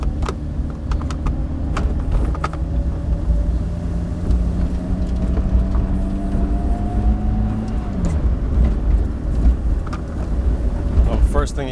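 A Miata with a swapped-in Honda Odyssey engine idles and warms up, a steady close engine drone with a sustained tone that eases down partway through, heard from inside the car.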